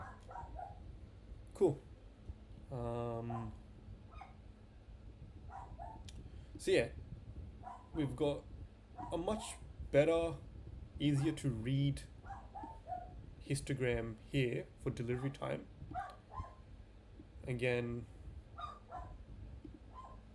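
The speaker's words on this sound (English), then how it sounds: "apologies if you hear a dog barking, that's my dog, he's going a bit crazy." A pet dog barks and yips indoors in the background, several short bursts scattered under someone speaking steadily close to the microphone.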